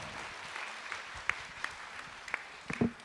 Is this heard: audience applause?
yes